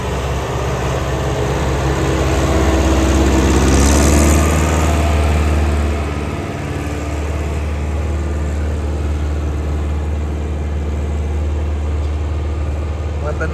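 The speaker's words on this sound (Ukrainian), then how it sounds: "трактор йде." A YTO 804 tractor engine runs steadily nearby during pre-sowing cultivation with a KPA-4 cultivator, a low constant drone that swells louder for a few seconds then settles back to an even hum.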